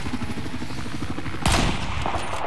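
Battlefield 4 multiplayer gunfire on the Paracel Storm map: rapid automatic bursts rattle close and loud, then a heavier blast cuts in midway with noisy crackle after.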